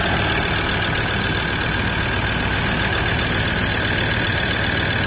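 A 2016 Ford Ranger engine idling, a steady, even broadband rumble with a constant hiss, heard close and alone with no talk.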